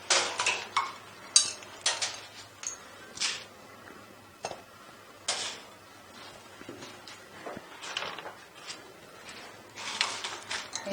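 Spices dry-roasting in a pan for homemade tikka masala, heard as scattered clinks and scraping strokes of a utensil against the metal pan, fairly faint and irregular, with no voices.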